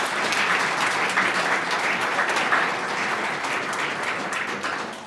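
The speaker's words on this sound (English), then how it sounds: "Give a round of applause for all of them." An audience at a Phi Beta Kappa and Society of the Cincinnati convocation gives sustained applause, steady and fairly loud for the whole stretch, with no one speaking over it.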